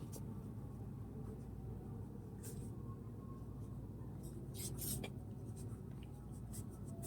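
Pen or marker strokes on paper or a board during a Class 6 maths lesson on finding the HCF, heard as brief scratchy bursts over a steady low background hum with no talking.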